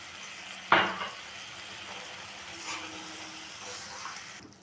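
Prawn malai curry cooking in coconut milk in a pan, a soft steady bubbling and low simmer heard close, opened by a sharp clatter as liquid is poured in and ending with a faint knock.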